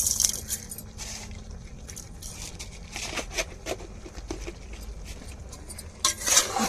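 A spoon scrapes and clatters in a pan as masala is stirred into vegetables, close-up: steady scratchy patter with sharper metallic clinks and taps, louder bursts near the end, and no voices.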